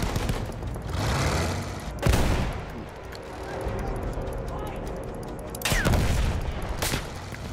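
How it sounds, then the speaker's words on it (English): Machine gun fire in the Battlefield 1 campaign, with loud bursts of automatic gunfire and sharp blasts around two and six seconds over a constant battlefield din. "Oh, this is a machine gun."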